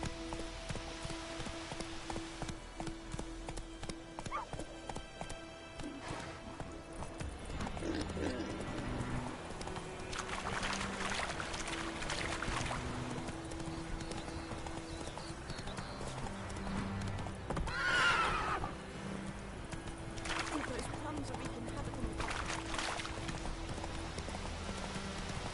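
A horse gallops in the video game Witcher 3, its hooves clip-clopping in a fast, steady rhythm, close and continuous, with rain pattering and game music underneath.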